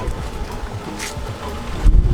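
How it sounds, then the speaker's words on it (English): Gusty wind buffets the microphone in low rumbles at Brian Head, Utah, rising into a heavier blast near the end, with no one speaking. "It's a little windy."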